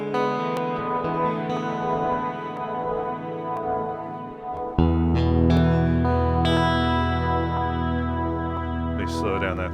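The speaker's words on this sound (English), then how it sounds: "into a one side phaser, other side mono echo pedal" Electric guitar run through a VFE Klein Bottle phaser on one side and a mono echo pedal on the other, playing sustained chords with swirling phase and echo repeats that get fuller and louder midway.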